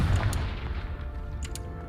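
A Confringo fire spell in Hogwarts Legacy explodes as a deep boom that fades out over a couple of seconds, with faint sparkling crackles near the end.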